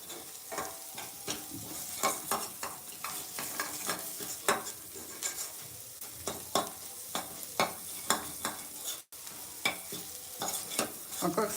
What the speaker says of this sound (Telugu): లో ఫ్లేమ్లో మంచిగా ఫ్రై చేసుకోవాలి.